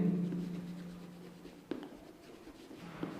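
Chalk or marker scratching across a board during a Class X maths lesson on polynomials: light strokes with a couple of sharp taps, heard alone over a low room hum.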